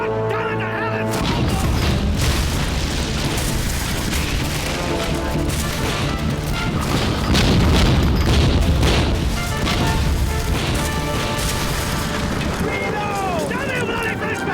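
Ship cannons booming during a naval battle in a period TV drama, heavy blasts and crashes layered under a continuous dramatic orchestral score with shouting voices throughout.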